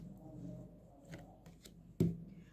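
Tarot cards shuffled by hand make soft riffling and sliding rustles up close, ending in a sharp tap as the deck is squared, with faint speech in the background.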